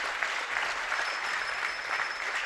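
Steady applause from a crowd at a men's 3-positions rifle shooting final, a dense even patter of many hands clapping without pause.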